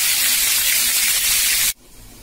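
Potatoes frying in hot oil in a kadai give a loud, steady hiss that runs alone for almost two seconds and then cuts off abruptly, leaving only a faint background murmur.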